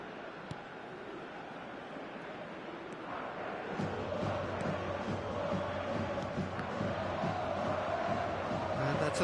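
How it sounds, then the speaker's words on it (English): A stadium crowd in eFootball 2024 swells into a broad, sustained roar of cheering after a quieter opening, loud and continuous with no distinct voices. "at least the crowd are appreciative of his efforts."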